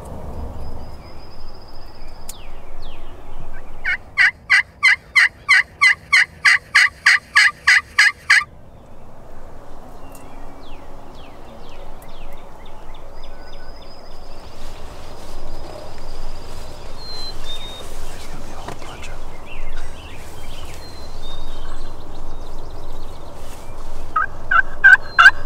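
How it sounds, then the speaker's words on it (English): Wild turkey gobbling from the roost down a hill above a creek, one loud rapid rattling burst of about a dozen pulses, with faint bird calls and ambient woodland noise around it and no talk. "We've had a few birds gobbling on the roost just down the hill there over the creek"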